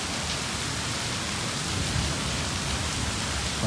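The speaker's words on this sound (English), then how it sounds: "It's raining good." Heavy rain pours steadily and loudly during a tornado in West Pensacola, Florida, a dense continuous hiss with no voices.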